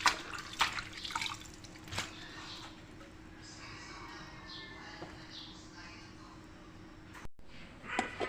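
Moringa leaves and Malabar spinach being rinsed by hand in a basin of water for a vegetable soup, with close splashes, drips and sloshing that come in uneven bursts before easing to a softer trickle.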